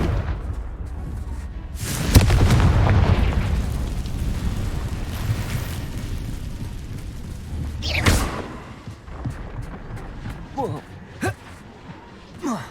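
Confringo blasting curse detonating in Hogwarts Legacy, a sudden booming explosion with a roaring tail, then another sharp blast and scattered smaller pops and whooshes of spell effects.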